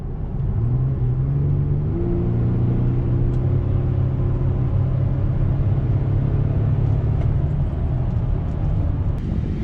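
A Chevy Colorado pickup engine with stock air intake rumbles and climbs in pitch as it accelerates, heard from inside the cab, steady and moderately loud with a low droning tone.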